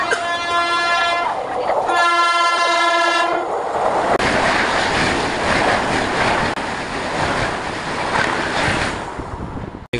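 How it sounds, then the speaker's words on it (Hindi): A passenger train pulls out of a station in the early morning, a loud horn sounding in two blasts near the start, then rolling wagons and rail clatter building steadily to the end. "अभी हमारा ट्रेन का डिपार्चर हो चुका है यहाँ से"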